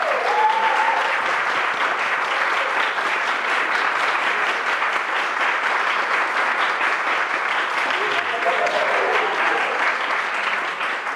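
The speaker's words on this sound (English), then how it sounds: "She deserves a round of applause." Steady, dense applause from a large audience fills the whole stretch, loud and unbroken, with faint voices mixed in near the start and end.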